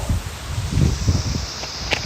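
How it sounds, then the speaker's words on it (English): Gusty wind buffets the microphone with low rumbling bursts throughout, loud and close, with a faint rustle near the end. "it's getting really windy"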